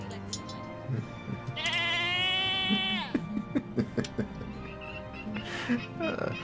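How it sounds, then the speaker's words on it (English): A goat in the strategy video game 0 A.D. gives one drawn-out, wavering bleat as it dies. Scattered clicks and a voice follow. "the goat made a sound when it died"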